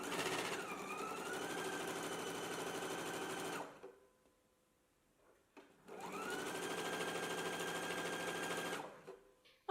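A sewing machine stitches down the long side of a strap with a 3/8-inch seam allowance, two loud, close bursts of rapid motor whir separated by a quiet pause.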